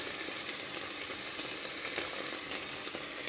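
Carrots and potatoes sizzle steadily in a hot pan while cooking a ground beef omelette at home, with a constant, even frying hiss and occasional light crackles.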